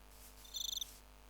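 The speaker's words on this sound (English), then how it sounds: "I don't like you crickets." A cricket in a modded Minecraft world gives one short burst of about seven rapid, high chirps, clear against a quiet background.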